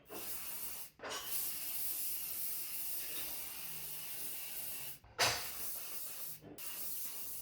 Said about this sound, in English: now I'm just gonna closely spray it on the curls